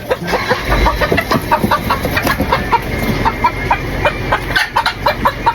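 Chickens cluck in a steady, busy stream of short calls, close and fairly loud, with a low rumble underneath and no talking.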